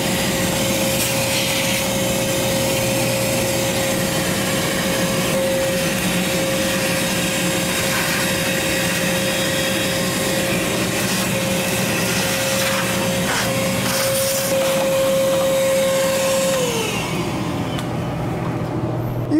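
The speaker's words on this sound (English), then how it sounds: "Vacuum out the rest of the inside of the machine." A vacuum cleaner runs continuously and loudly inside a vending machine, its steady whine dropping in pitch near the end as the motor winds down.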